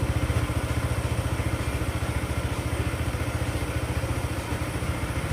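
A motorcycle engine idles nearby with a steady, rapid low thumping pulse and a faint clatter, running alone without speech.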